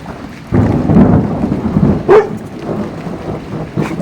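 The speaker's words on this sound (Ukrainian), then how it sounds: "то грім." Thunder rumbles low and heavy, swelling after a moment of quiet, with rain hissing behind it and a short sharp sound partway through.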